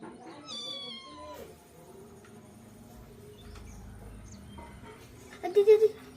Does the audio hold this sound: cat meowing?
yes